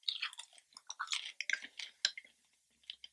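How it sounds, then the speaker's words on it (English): Close, wet gum chewing with crisp smacking and clicking mouth sounds in a quick, irregular rhythm, a steady run of smacks with brief pauses and no talking. "I don't like chewing gum."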